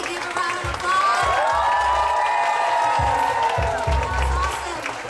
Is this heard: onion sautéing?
no